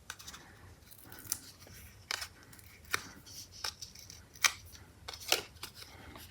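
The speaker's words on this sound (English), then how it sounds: "I'm going to cut some of that off." Scissors snip through a plastic floss threader, several sharp, quiet cuts spaced irregularly over a faint background with no speech.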